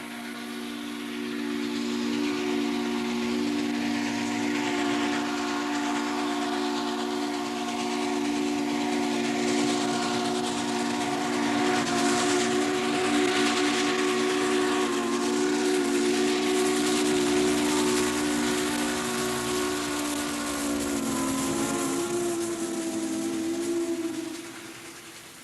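A steam train's whistle sounds in a long sustained blast on an excursion, layered tones holding steadily over hissing steam for about twenty seconds before fading.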